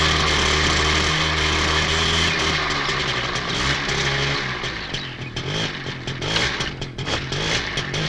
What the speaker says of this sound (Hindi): गाड़ी से धुआं ज्यादा निकल रहा है, लेकिन इंजन में कोई खराबी नहीं है